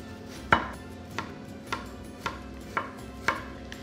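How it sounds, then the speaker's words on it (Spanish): A knife chops onion finely on a cutting board, six separate crisp taps spaced about half a second apart, fairly quiet and close, with no speech. "Lo primero que vamos a hacer será picar la cebolla finamente."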